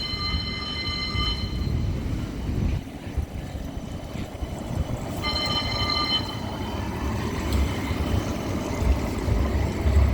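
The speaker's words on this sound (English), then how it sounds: "So this tram's going to Edgbaston Village," A Birmingham tram bound for Edgbaston Village rumbles past at steady volume, with low rolling and rail noise throughout and two bursts of a high bell-like tone or electrical whine.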